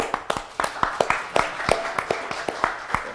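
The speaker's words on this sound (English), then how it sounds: "We always clap when we meet someone who's talking" Audience clapping at a fireside chat: a thin, uneven scatter of claps with sharp separate hits spread across the room, steady for a few seconds.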